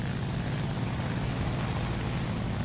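Steady, dense drone of a La-7 propeller fighter's engine in War Thunder, a continuous loud roar with no breaks and no talking.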